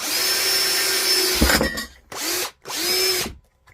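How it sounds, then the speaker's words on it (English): A power drill whines steadily, then runs in two more short bursts as it bores holes in a Yamaha Virago motorcycle air cleaner, close and loud with no talking. "Just drill holes."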